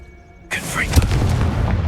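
A Confringo fire spell explodes in the game Hogwarts Legacy: after a quiet lead-in, a sudden loud, close blast breaks out, with a deep thump and a rumbling, crackling tail that carries on to the end.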